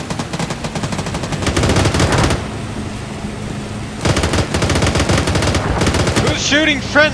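Rapid bursts of machine gun fire from a military video game ring out loud and close in two long volleys separated by a brief pause, ending with a few sharp metallic ricochet-like pings.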